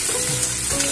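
Onion hisses and sizzles steadily in hot oil in a pan with cumin, the start of a sprouted field bean curry, a dense close crackle with no pauses.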